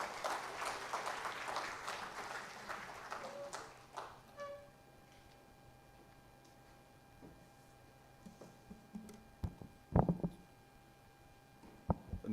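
Applause from an audience greeting a speaker at a silver jubilee celebration, broad clapping fading over a few seconds, followed by scattered faint taps and a few sharp knocks.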